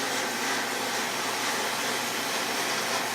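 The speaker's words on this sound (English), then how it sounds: "just going to go welding each one of them." Welding metal grape trellis pieces clamped flat on a welding table, heard as a continuous loud, dense hiss and crackle that holds steady throughout with no talking.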